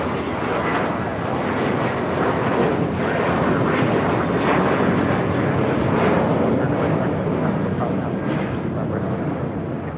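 Airbus A321 jet airliner at LAX, a steady broadband jet roar heard from nearby and holding loud throughout the ten seconds, with faint voices underneath.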